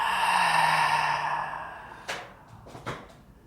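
A deep breath drawn in and slowly released during a yoga flow, one long soft airy exhale fading over a couple of seconds, followed by faint rustles; no talking.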